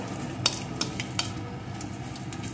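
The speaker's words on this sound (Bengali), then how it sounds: "ফোড়নগুলো একটু লাল লাল করে ভেজে নেব" Dried red chili and whole cumin seeds fry in hot oil with a steady, soft sizzle, broken by a few brief stirring clinks near the start; no one speaks.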